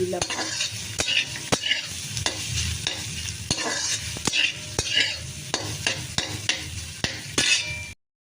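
Soybean chunks fry in hot oil in a pan with turmeric added, a steady close sizzle broken by frequent sharp scrapes and clinks of a stirring spoon against the metal.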